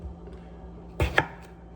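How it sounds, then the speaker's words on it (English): Two quick, close knife chops thud on a cutting board while chopping onions in a quiet room, followed by a faint tap. "the chopping is primarily being obscured by like a mountain of onions"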